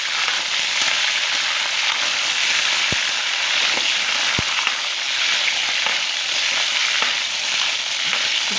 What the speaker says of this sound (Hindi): ये देखिए कितना अच्छा फ्राई हो चुका है चिकन।